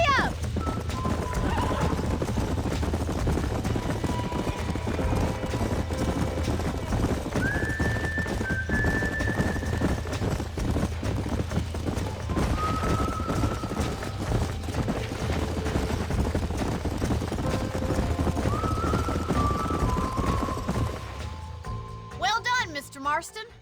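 Horses in the Red Dead Redemption video game gallop with continuous rapid clip-clop hoofbeats, punctuated by several neighs and whinnies across a long stretch.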